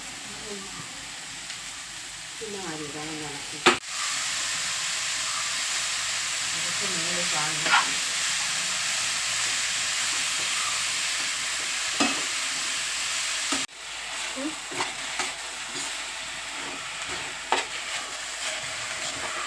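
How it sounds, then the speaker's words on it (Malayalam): Chopped spinach leaves fry in a pan with a continuous hiss and sizzle, broken by stirring scrapes and a couple of sharp knocks. A voice talks in the background. "ചീരയില അരിഞ്ഞത് ചേർക്കാം."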